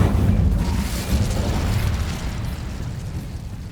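A fiery Incendio spell cast in the Hogwarts Legacy video game, heard as a loud, sustained roaring burst with a crackling whoosh that stays dense for several seconds and fades only slightly.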